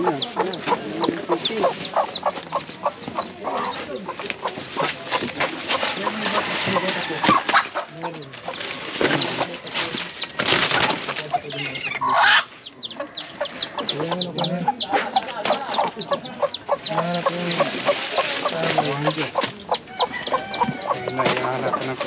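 Chickens cluck steadily through the whole stretch, a dense farmyard flock calling close by with overlapping clucks and brief rooster-like cries, while voices talk faintly underneath.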